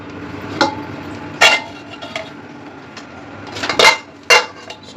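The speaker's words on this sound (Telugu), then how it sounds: "ఇప్పుడు వచ్చేసి ఓపెన్ చేస్తున్నాం కడాయి" Pot and utensil clinks as a kadai of chicken biryani is opened in a home kitchen, with about five sharp metallic clatters spread across the moment over a low background hum.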